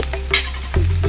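Dried red chillies and chana dal fry in hot oil while being stirred, a close, steady sizzle broken by scraping strokes of the spoon in the pan.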